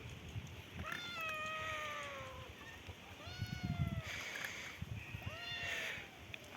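A mother cat and her kittens meow outdoors near a wall, with several clear, drawn-out meows rising and falling in close succession over a low background rumble.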